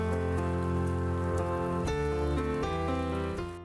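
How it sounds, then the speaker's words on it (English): Simulated hail rattling on a fiberglass roof, built as a looping effect in Unreal Engine 5: a dense, steady patter of small impacts over sustained musical tones, fading slightly at the end. "I used hail on fiberglass roof."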